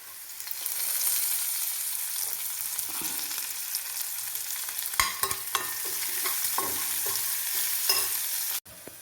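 Curry leaves frying in hot oil give a continuous hissing sizzle, with a spoon stirring and clinking against the pan in the second half, close and clear, no voices.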